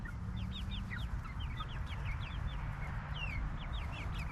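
A flock of chickens clucking in a farmyard, with repeated short clucks and chirpy calls scattered throughout over a steady low background rumble, no talking.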